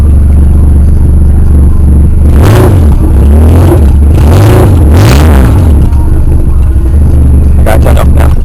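A loud, raw engine with no exhaust fitted revs up and down several times, harsh and unmuffled, with a clattery rumble close to the microphone.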